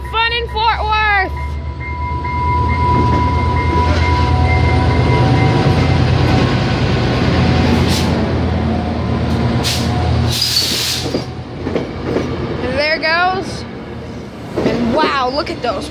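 A passenger train rolls past loudly with rumbling wheels and a steady roar, a hiss of air brakes partway through, and voices talking near the start and end.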